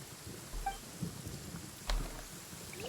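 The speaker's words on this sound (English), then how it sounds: "Uh-oh! Lightning storm!" Thunderstorm in the video game Genshin Impact: steady rain hiss with low rumbling thunder and a sharp crack near the end, no speech.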